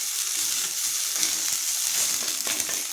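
Onion, garlic and ginger sizzle steadily in a pan over a medium flame for a traditional Sankranti Bhogi vegetable dish, with a dense, continuous hiss and crackle and occasional soft stirring scrapes, close and unbroken by any voice.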